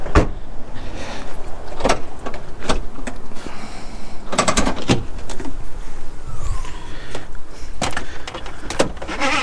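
The boot of a cheap used Audi A4 TDI car being opened, heard as a series of close, sharp mechanical clicks, latch clunks and thumps spread over several seconds, separated by quieter rustling handling noise.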